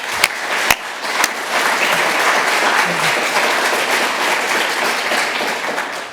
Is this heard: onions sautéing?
no